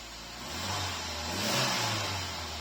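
Citroen BX 16TRS engine revs up from idle in a smooth mid-pitched rise and eases back, a steady close drone throughout with no talking.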